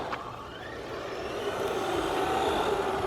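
A PXtoys 9202 brushed 1:12 scale 4WD RC buggy driven at full throttle in the mountains gives a steady rising electric motor whine with gear noise, continuous and moderately close.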